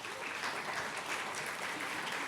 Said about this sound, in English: give a round of applause to all of the folks in the room